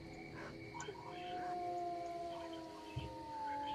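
Mutant dogs in the S.T.A.L.K.E.R. shooter game letting out long, drawn-out howls that rise and waver, fairly faint against a low rumbling ambience, with a brief voice partway through.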